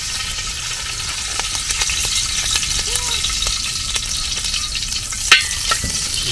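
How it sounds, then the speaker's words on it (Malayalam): Ingredients frying in hot oil in a pan, a steady, close sizzle running throughout with occasional stirring scrapes and one sharper pop near the end, no talking. "എണ്ണ ചൂടായിട്ട് നമുക്ക് ഓരോ സാധനങ്ങളൊക്കെ ഇട്ട് കൊടുക്കാം"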